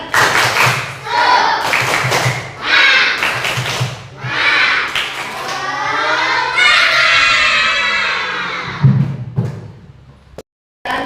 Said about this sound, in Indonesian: Nah, tepuk semangatnya. Tepuk semangat.